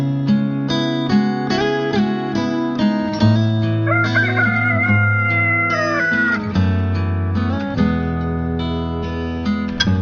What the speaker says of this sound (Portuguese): Na mesma hora, o galo canta a terceira vez.